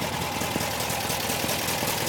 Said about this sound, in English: So back around to the engine.